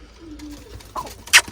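A pigeon gives a soft, low coo, followed by a brief rustle and a short sharp flutter close by.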